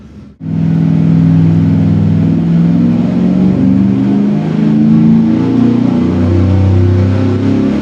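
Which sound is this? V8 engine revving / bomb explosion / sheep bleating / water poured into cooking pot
V8 engine revving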